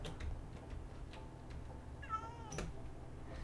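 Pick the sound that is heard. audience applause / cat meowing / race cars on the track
cat meowing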